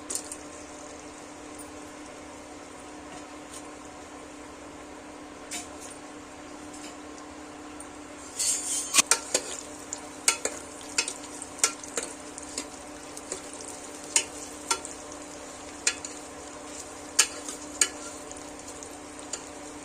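Onion, cinnamon and cloves fry in a pan for mutton curry with a steady close sizzle under a constant hum, joined midway by repeated sharp scraping clicks of stirring.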